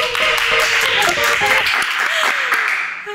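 Audience at a talk or seminar clapping spontaneously, a dense, loud burst of many hands that carries throughout and thins slightly toward the end, with faint voices mixed in.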